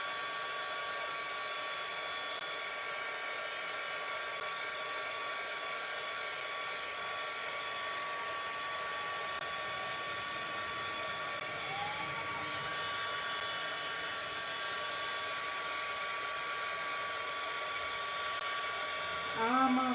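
A hair dryer runs steadily and close, blowing hot air over a handmade fall tag craft project, a constant whining drone that holds unchanged for the whole stretch, with a faint voice near the end.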